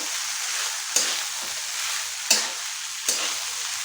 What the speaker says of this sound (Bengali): এরকম করে নাড়িয়ে যেতে হবে, খুব ভালো করে এটাকে একটু ভাজতে হবে ওপর নিচ করে